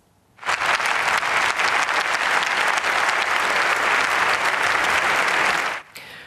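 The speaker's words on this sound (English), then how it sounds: "Volodymyr Zelensky was met with applause after making an emotional address to the German parliament" Applause in the German parliament for Volodymyr Zelensky's address, a loud, sustained wall of clapping from a large audience that starts abruptly, holds for over five seconds and then cuts off.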